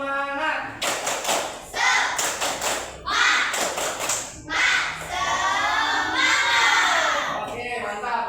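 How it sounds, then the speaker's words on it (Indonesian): A classroom of students performs the tepuk semangat spirit clap, bursts of rhythmic group clapping alternating with chanted voices and shouts, lively and close, ending in cheering. "Tepuk semangat dulu."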